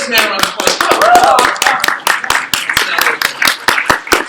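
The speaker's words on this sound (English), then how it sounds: "Give this man a round of applause." A live convention podcast audience at C2E2 claps close and loud, individual sharp hand claps standing out in an irregular, lively patter that thins toward the end.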